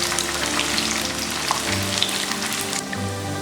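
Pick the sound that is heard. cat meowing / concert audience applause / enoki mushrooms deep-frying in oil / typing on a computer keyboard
enoki mushrooms deep-frying in oil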